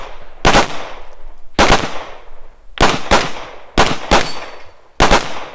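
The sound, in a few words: gunfire at a shooting competition stage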